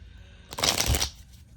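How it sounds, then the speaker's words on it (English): Tarot cards shuffled by hand in one short, crisp riffling burst, close and fairly loud, with quiet before and after. "So I'm going to reshuffle."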